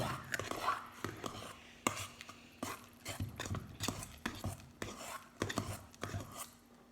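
Wet, sticky stirring and scraping of slime mixture made with dish soap in a bowl, with repeated soft clicks and slaps in an uneven rhythm, close by.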